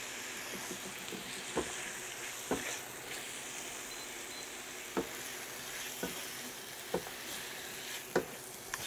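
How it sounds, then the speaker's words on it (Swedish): Chicken fries in a pan for a creamy tortellini dinner, giving a quiet, steady sizzle broken by sharp occasional pops and clicks of utensils. "Ska vi låta kycklingen stekas på så den blir färdig."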